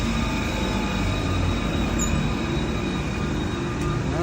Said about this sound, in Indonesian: kereta bukan kereta api, kereta listrik.